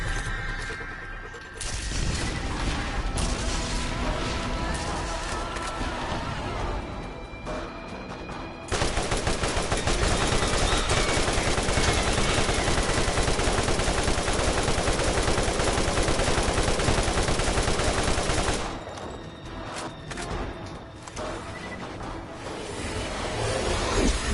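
Sustained rapid gunfire aimed at a giant eye boss in the Borderlands video game, loud and continuous with bursts of automatic fire, heaviest through the middle stretch, over constant game noise.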